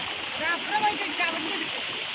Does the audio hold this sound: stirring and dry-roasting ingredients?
no